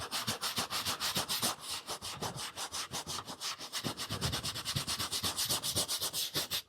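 A brush scrubs rapidly and steadily across a Ford F-150 headliner board, clearing off dried foam residue with dense, rhythmic back-and-forth strokes that stay close and loud throughout, with no talking.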